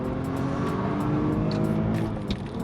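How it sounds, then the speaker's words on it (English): A manual BMW 530i is driven hard from 20 to 70 mph, its engine revving loudly and continuously under load with gear changes, heard from inside the car, with no talk. "see how quickly we can get it from 20 to 70 miles an hour"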